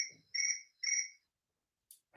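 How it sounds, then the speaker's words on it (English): Two clear chirps, even in pitch and spaced about half a second apart, sound close and fairly loud and fit a cricket, then quiet and a short faint rustle at the end. "And the crickets sang"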